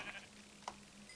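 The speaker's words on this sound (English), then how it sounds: "So I'm going to go kill this sheep because I need wool." A single short sheep bleat from the Minecraft video game, faint and brief over a quiet background hum.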